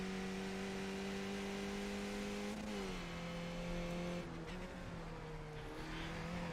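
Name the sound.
race cars engines roaring in iRacing video game, Road Atlanta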